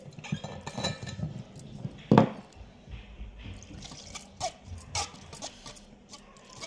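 Water is poured in uneven splashes and trickles, with a few drips and clinks of a vessel, close and moderately quiet.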